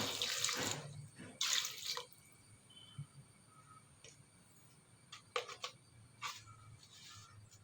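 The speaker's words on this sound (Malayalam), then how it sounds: "കുറച്ച് വെള്ളം ഒഴിക്കുക." Water poured into a cooking pot of chopped taro: two short, close splashing pours near the start, then quiet with a few brief trickles and drips later.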